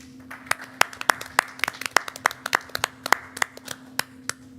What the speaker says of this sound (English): I think we ought to give Amy a nice round of applause because she's helped us out a lot